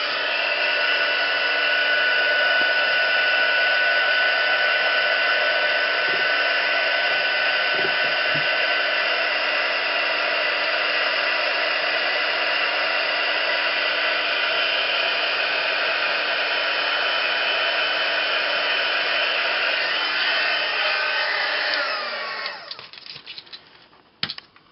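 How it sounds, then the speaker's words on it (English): A heat gun blows a loud, steady, close whoosh while melting embossing crystals on a seashore-themed mixed media tag card, running continuously before sputtering off near the end. "I'm just going to heat emboss this now"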